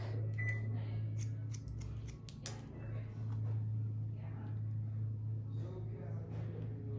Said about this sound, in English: Keeping my length in front, I'm just gonna trim it, create a nice straight line.